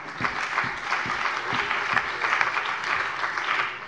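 Members of the Hessian state parliament applaud during a plenary session marking Hesse's 70th anniversary, a steady burst of clapping from a mid-sized room, with a few louder individual claps near the front.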